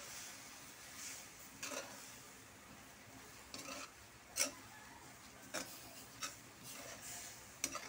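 Winged beans (sigarilyas) in coconut milk being stirred in a pan: soft steady simmering hiss with intermittent scraping and clinking of a utensil, close up and quiet.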